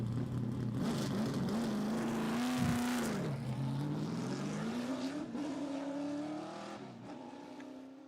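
Pikes Peak race car with huge wings and slick tyres, driven by Cody Varsholtz, its engine note rising and falling steadily through acceleration and shifts, loud and continuous with crowd or wind noise beneath.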